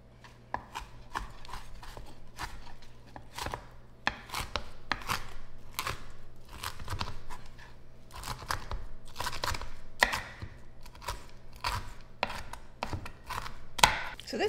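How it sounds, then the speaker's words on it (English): A knife dices super-crispy bacon on a cutting board, giving a fast irregular series of sharp crunchy chops, close and fairly loud, with short pauses between bursts. "Now this bacon is super, super crispy. So I'm gonna get this diced up."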